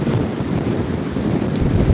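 Strong wind buffets a sailboat lying at anchor at night, a steady loud roar with low gusty rumble filling the whole stretch and no voices.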